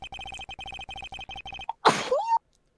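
A game voice sound effect gives a short, sharp sneeze burst after a run of rapid beeping dialogue blips, then quiet.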